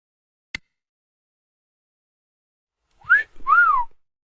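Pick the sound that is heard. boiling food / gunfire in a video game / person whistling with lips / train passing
person whistling with lips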